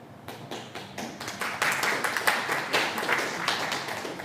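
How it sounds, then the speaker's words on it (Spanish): An audience at an academic lecture session applauds, starting with a few scattered claps and swelling into dense, steady clapping that continues to the end. "El aplauso previo siempre compromete una mejor exposición"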